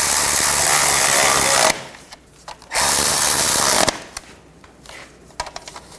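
A power tool tightening engine mount bracket bolts on a Chevy Traverse, with two loud, close bursts of whirring followed by quieter clicks and ratcheting taps.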